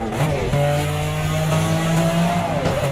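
A Ferrari Testarossa flat-twelve engine holding a steady, loud drone that rises slightly in pitch, with faint tire noise, heard close and without talk.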